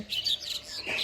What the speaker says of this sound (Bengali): খুব সুন্দর পাখির ডাক শোনা যাচ্ছিল আশেপাশে